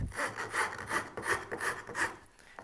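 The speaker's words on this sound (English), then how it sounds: "I actually like to use the Shinto rasp on this" A Shinto rasp works wood while shaping a part for a handmade chair, rhythmic back-and-forth strokes, about six regular passes, close and fairly soft.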